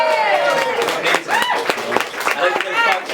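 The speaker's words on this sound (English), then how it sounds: "could I go give a round of applause for all these speakers tonight?" An evening exhibition audience applauds its speakers, scattered clapping mixed with cheering and lively crowd voices close by.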